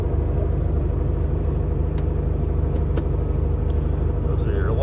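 A 1970 Volkswagen Beetle's 1600cc single-port engine runs at a steady idle, its close, even rumble continuing without a break throughout.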